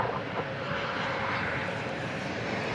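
An American Airlines Airbus A320 lands at DFW Airport, a steady broad jet roar close and continuous throughout, with no talk.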